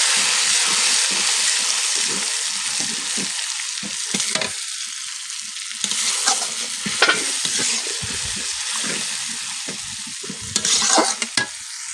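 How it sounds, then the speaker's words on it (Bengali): Chili powder water poured into hot frying masala hisses and sizzles loudly as it is stirred, with scraping stir strokes and bursts of spluttering close by. "আবার লঙ্কার গুঁড়োর জলটা দিয়ে দিব, গুলিয়ে নিব একটু"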